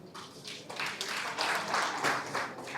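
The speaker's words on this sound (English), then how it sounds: "deserve a special round of applause." Applause at a family celebration: a steady wash of many hands clapping together, fairly close and unbroken, with no voices over it.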